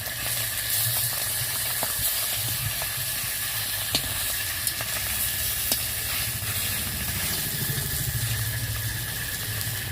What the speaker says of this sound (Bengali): তাই আগে মাছটা ভেজে নিচ্ছি।